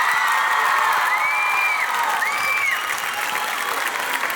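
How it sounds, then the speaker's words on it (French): A crowd applauds loudly and continuously after a tribute performance by young performers, with dense clapping, a couple of whistles and scattered cheers. "Public, vous n'avez pas assez applaudi."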